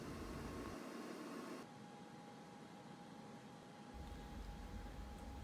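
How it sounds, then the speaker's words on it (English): An air fryer runs with broccoli florets inside, giving a steady whooshing fan drone with a faint hum, loud and unbroken, with no talk. "now let's pop them into the air fryer"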